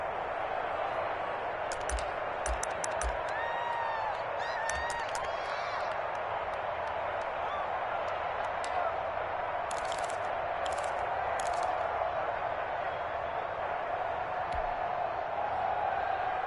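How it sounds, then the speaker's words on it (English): A large stadium crowd roars steadily through a video game football broadcast of the LA Chargers at Pittsburgh during a late two-point conversion. The dense, continuous crowd noise has brief sharp cheers and whistle-like bursts on top. "Listen to this crowd now."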